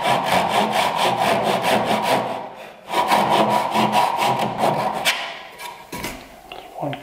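A hand saw cutting kerfs in wood for a bridle joint, with close, loud, rhythmic back-and-forth rasping strokes in a fast steady series, a brief pause, then more strokes before slowing and stopping.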